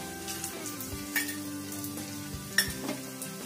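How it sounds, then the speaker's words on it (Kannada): Crushed garlic and ginger sizzle steadily in hot oil for momos, a continuous close frying hiss with a few brief clinks of a utensil against the pan. "ಜಜ್ಜಿ ಇಟ್ಕೊಂಡಿರುವಂತಹ ಈ ಬೆಳ್ಳುಳ್ಳಿನ ಎಣ್ಣೆಗೆ ಹಾಕೊಳ್ತಾ ಇದ್ದೀನಿ"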